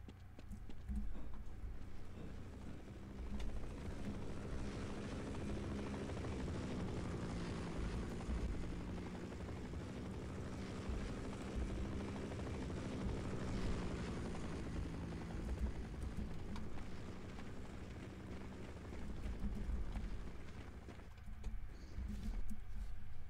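Helicopter in the Half-Life video game, a steady low rotor chop and engine drone that holds loud and continuous throughout, with no voices.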